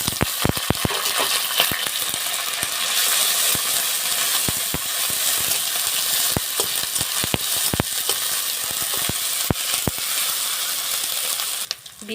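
Onion, ginger and garlic paste fries in hot oil with bay leaf, cardamom and clove, giving a loud, continuous sizzle and hiss close by, broken by sharp clinks and scrapes of a spoon stirring in the pan.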